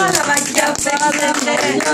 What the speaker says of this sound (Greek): Έλα, κάνει παλαμάκια.